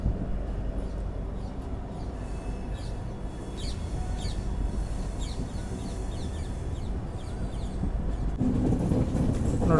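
Diesel locomotive train at Rameswaram station, a steady low rumble with faint wheel clatter on rails and light birdsong in the background, growing slightly louder at the end.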